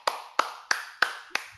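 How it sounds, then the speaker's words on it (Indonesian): Five sharp, evenly spaced handclaps ring out alone in a small room during a public speaking webinar, each a crisp slap with a short reverberant tail. "Tepuk tangan buat kita semua."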